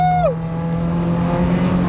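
A Peugeot 205 GTI on a mountain road accelerates, its engine tone sweeping through a gear change in a brief, loud, close burst of revving.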